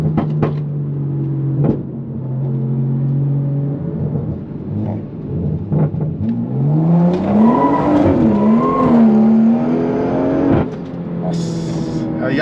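A sports car in Sport mode accelerating and sliding sideways, engine note rising and wavering through revs with tire noise, loud and close, a voice heard early on.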